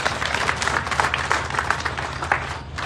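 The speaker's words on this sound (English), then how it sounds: "A round of applause, please." An audience at the opening ceremony of Sierra Leone's first Foreign Service Academy breaks into a steady round of applause, many hands clapping densely and continuously at moderate loudness, with a faint low hum underneath.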